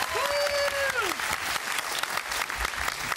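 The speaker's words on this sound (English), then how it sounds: "can we have a round of applause for all our choirs and their conductors?" A studio audience applauds the choirs and their conductors at a Christmas TV quiz show, with loud sustained clapping that follows a brief voice and fades slightly toward the end.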